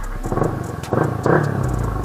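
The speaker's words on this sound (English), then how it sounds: "let's start the bike" A Yamaha R15 v3 motorcycle engine cranks and catches, giving a short burst of uneven sputtering that settles into a low rumble, close and fairly loud, with no talking.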